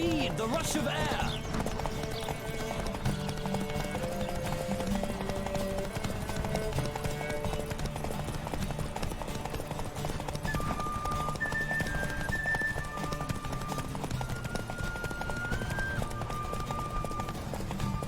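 Rhythmic hoofbeats of a galloping horse in The Witcher 3: Wild Hunt, with an occasional whinny, steady and continuous over a busy backdrop of music and voices.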